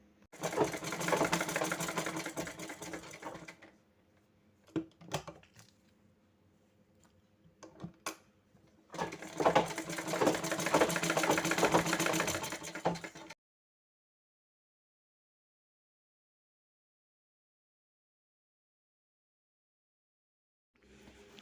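A sewing machine stitches a circle in cloth in two runs of steady, close mechanical whirring, separated by a few clicks and pauses, then silence.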